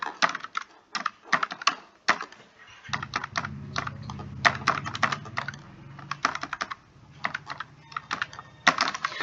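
Quick, uneven keystrokes clatter on a computer keyboard while sales figures go into an Excel bill format, close and crisp bursts of taps with short pauses, and a low hum enters partway through.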